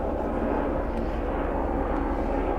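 A helicopter passes overhead outdoors, its engine and rotors producing a steady, loud, broadband rumble that fills the whole moment with no break.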